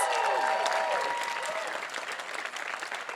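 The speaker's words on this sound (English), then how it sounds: "Another round of applause." Live audience applause and crowd noise for a singer at a Star Trek Day event, a dense sustained wash of clapping that gradually thins while a brief tonal sound fades early on.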